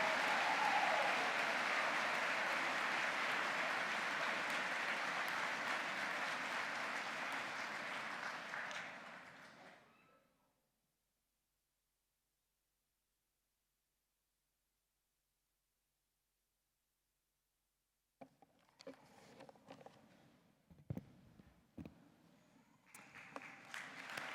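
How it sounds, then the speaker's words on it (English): Sustained audience applause at a university convocation fades out after about ten seconds, followed by silence, then faint scattered noises and movement. "Another round of applause, please, to the outstanding, outstanding students."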